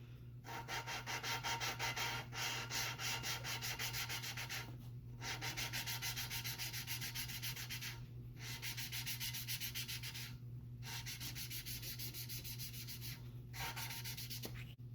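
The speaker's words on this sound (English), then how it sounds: "we're going to take and reinsert our valve. And you're going to hear there's a bit of grit to it" Gritty back-and-forth rubbing as a valve is lapped against its cylinder head seat on an '87 Chevy S10 Iron Duke engine, in steady close strokes with short pauses, quiet and alone.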